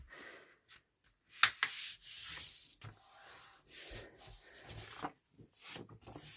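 A cutter trims the edge off a sheet of 12 by 12 paper, giving a series of close, soft scraping and rasping passes in uneven bursts with short pauses between them.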